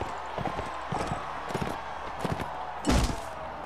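Hoofbeats of a horse in Mount & Blade Warband, clip-clopping in a steady run with several louder thuds, closing in a heavy burst of impact near the end.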